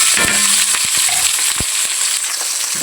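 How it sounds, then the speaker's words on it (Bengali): Onion, green chili, garlic and ginger fry in hot soybean oil with a loud, continuous sizzle, punctuated by sharp crackles and spatter pops close at hand. "আমি এখন পেঁয়াজ কাঁচামরিচ আর রসুন অল্প একটু কিন্তু আদাও দিয়ে নিয়েছি। তো ভেজে দিচ্ছি।"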